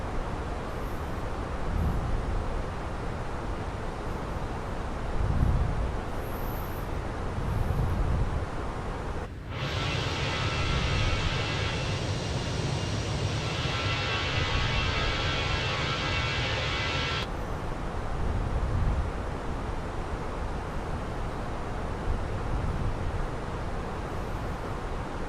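In a flight simulator game, an airliner's engines drone steadily during the climb as a constant broadband roar. A brighter hissing layer joins partway through, then cuts out several seconds later, with no talking.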